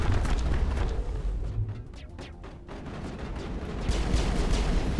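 Sustained heavy weapon fire in Mass Effect combat, a dense, booming barrage of rapid shots and rumbling impacts that thins briefly in the middle before building again, loud and continuous without talk.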